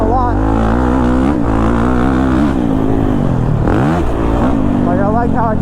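A Kawasaki KX450 dirt bike engine runs loud and close, its pitch rising and falling smoothly as the throttle rolls on and off, with a brief dip and climb near the end.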